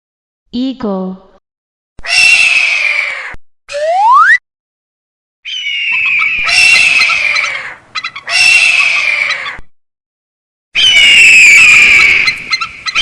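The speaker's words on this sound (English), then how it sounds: "eagle," An eagle giving a series of loud, harsh screeching calls, each a short burst separated by brief silences, heard alone and close.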